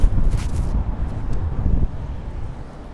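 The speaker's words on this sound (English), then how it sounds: "Oh, it's getting windy." Wind gusts buffet the microphone on a Manhattan street at night, a heavy low rumble that swells and then eases, close and loud with no voices.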